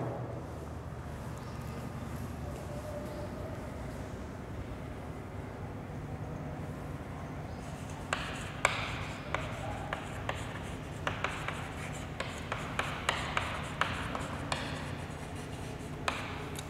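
A pi network diagram is drawn by hand. A quiet room murmur comes first, then a run of close, scratchy pen strokes with short taps and pauses between lines, no talking.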